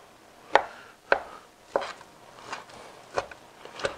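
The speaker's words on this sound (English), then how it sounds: "So chop this up just like they do chopped" Knife chopping smoked chuck roast on a cutting board, six sharp distinct thwacks at uneven spacing, close and clear with no talk.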